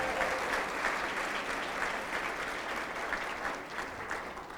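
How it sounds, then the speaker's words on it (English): Sustained audience applause fills a gala hall at a League of Women Voters anniversary celebration, a dense steady wash of many hands clapping with no voices standing out. "Let's give them another round of applause"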